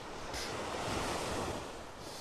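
Ocean waves wash onto Vanderbilt Beach in North Naples, Florida, where the surf has been eroding sand along the shoreline. A steady, broad roar of breaking surf with wind buffeting the microphone, no voices.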